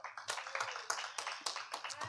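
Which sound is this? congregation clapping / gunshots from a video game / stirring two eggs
congregation clapping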